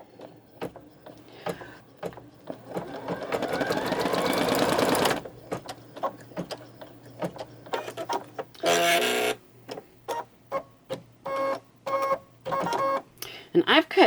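An embroidery machine stitches a placement marker on fabric backed with stabilizer, producing a rapid mechanical whirring run that swells, then pauses and resumes in short bursts of stitching and clicks, loud and close, with a voice talking over parts of it.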